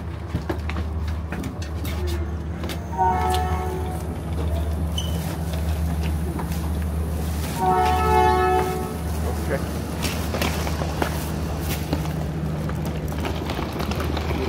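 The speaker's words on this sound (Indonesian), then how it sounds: "Kereta yang kami tumpangi tiba di stasiun Dong Dang, Vietnam sekitar pukul 1 dini hari" A train pulls into Dong Dang station in Vietnam at night, with a steady low rumble of rail cars throughout and two distinct horn blasts a few seconds apart, along with faint background voices.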